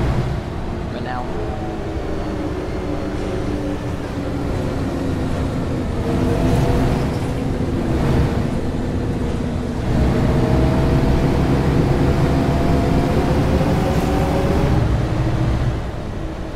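Steady engine drone of a Renown bus fitted with a sound mod in the OMSI 2 bus simulator, a continuous low rumble that swells and eases as it drives along.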